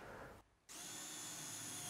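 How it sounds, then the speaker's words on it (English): A power drill bores holes into a wooden drawer side panel guided by a drilling jig, a steady loud whine that drops out briefly and then resumes at full speed, with no talking. "Finish drilling the one side panel first, then continue the other side panel without resetting the jig."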